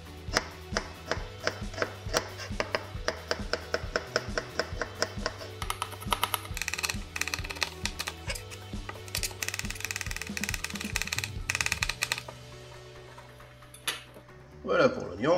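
An onion is chopped on a board with a knife in quick, rhythmic, close taps that run steadily before slowing, with a voice talking at times.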